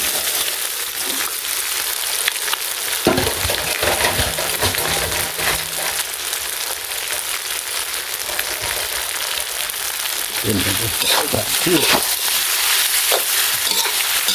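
Wide rice noodles are stir-fried with soy sauce in a hot pan, giving a loud, continuous sizzle and crackle broken by a few clattering stirs and scrapes of a utensil.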